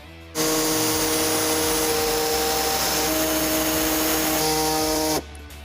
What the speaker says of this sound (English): use an air saw to make your trim